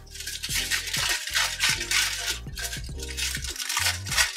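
Kitchen foil being torn into strips, with repeated crackly crinkling and ripping bursts close up, fairly loud and uneven, with no talking over it.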